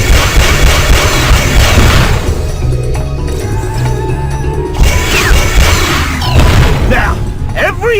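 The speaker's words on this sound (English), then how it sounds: "Try blasting these laser turrets and see what happens." Laser turrets blasted in a Despicable Me video game on PSP, a loud, dense run of crashing booms and bursts with sweeping electronic effects, under game music and a talking voice.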